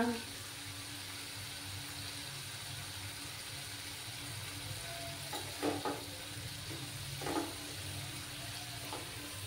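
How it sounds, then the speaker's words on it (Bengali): Spice paste for Tangra fish curry sautéed in oil: a steady, quiet sizzle runs throughout, broken by a few brief scrapes of stirring. "কিছুক্ষণ এইভাবে মশলাটাকে কষিয়ে নেব"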